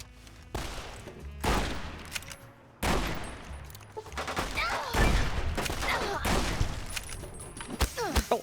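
Silenced rifle fire in Fallout: New Vegas, Old World Blues, comes as a series of sharp cracks and bursts over about eight seconds, the shots loud and irregularly spaced, with some crashing impacts between them.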